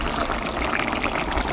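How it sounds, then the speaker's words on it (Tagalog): Coconut milk pours into a pan of Bicol express, a brief, close, continuous liquid splash and gurgle heard alone. "Lagyan na natin ng gata."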